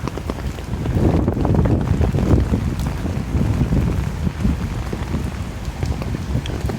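Wind blows along a nighttime street in Paramaribo, Suriname, as a steady, fairly loud broadband rush with gusty swells, continuous throughout and with no voices.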